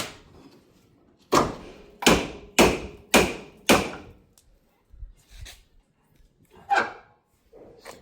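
Wheel being bolted onto a Ford AU Falcon: five sharp, evenly spaced metallic knocks ring out close by, followed by a few softer scattered taps and clunks.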